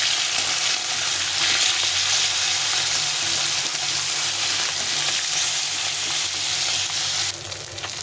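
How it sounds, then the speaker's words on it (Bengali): Pieces of rohu fish fry in hot oil in a wok, giving a loud, continuous crackling sizzle that drops slightly in level near the end. "মাছটা এক পাশে ভাজা হয়ে গেছে আবার উল্টে আর এক পাশে ভেজে নেব"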